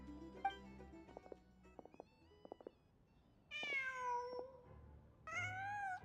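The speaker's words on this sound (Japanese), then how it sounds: "Oh, it's the cat that caused it." A cat meows repeatedly in the video game Genshin Impact, two long drawn-out calls standing out clearly near the end, with faint game music and soft chimes beneath.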